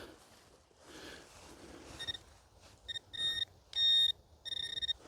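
Repeated electronic beeps from a metal detector signalling a dug-up target, starting faint and growing to several loud, close tones in short bursts, the longest near the end, over quiet outdoor background.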